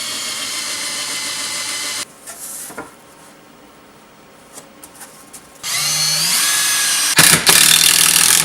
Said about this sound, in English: I'm going to pre-drill and use screws on the back side to hold the block of wood onto the plywood